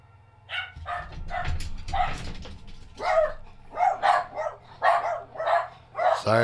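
Dogs bark repeatedly nearby in a run of loud, evenly spaced barks over a low hum, with some yips mixed in, while a Far Cry 5 game plays.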